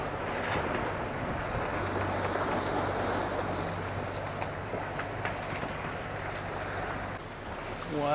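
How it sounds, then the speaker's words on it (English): Continuous rushing of sea waves and water from a sailboat moving at about 5.3 knots off Trinidad, with wind noise and a low engine-like hum underneath. "look at the waves it's creating"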